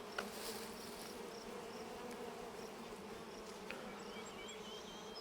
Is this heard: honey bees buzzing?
yes